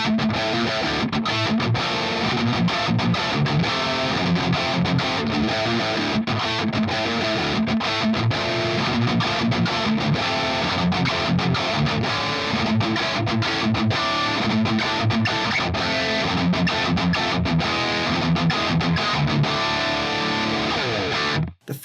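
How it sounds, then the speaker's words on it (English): A heavily distorted, high-gain electric guitar through a Hotone Ampero II Stomp preset plays a driving riff with a dry, tight tone, loud and steady throughout with no reverb tail. "The third scene in this preset is high gain and dry."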